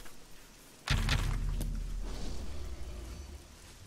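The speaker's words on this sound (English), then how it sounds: "When is it gonna stop raining?" Heavy rain and thunder in the video game Oblivion: after a quiet start, a sudden deep boom breaks in, and a loud, steady wash of rainfall rumbles on beneath it.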